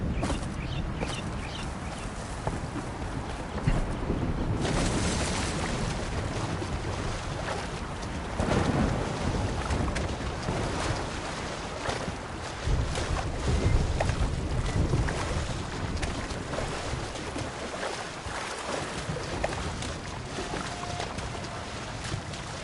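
Wind in the Horizon Forbidden West video game sweeps in a constant loud roaring rush, gusting and buffeting throughout with occasional stronger surges, no voices present.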